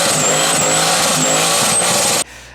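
A turbocharged LS V8 runs loud and close, a steady rough roar with turbo whistle on top, cutting off abruptly near the end.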